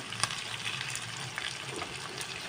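Chicken sukka fries in a pan over a high gas flame with a steady, close crackling sizzle and a few sharper pops, with no talking.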